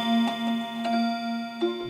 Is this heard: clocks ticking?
yes